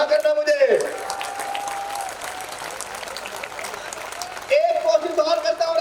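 An audience at an outdoor Kavi Sammelan poetry recital in Rajasthan claps steadily for several seconds between two brief stretches of a voice.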